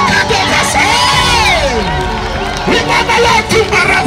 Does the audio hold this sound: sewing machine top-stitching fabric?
no